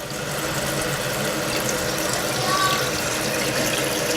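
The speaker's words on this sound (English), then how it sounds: "Starts to overflow into the toilet." Water rushing and overflowing through the tube of a toilet tank during a new toilet installation, a steady hissing flow heard up close and continuous.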